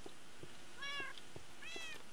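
Two meows from a Minecraft cat, each a short rising-falling call, with a faint blocky game background and soft thumps in between.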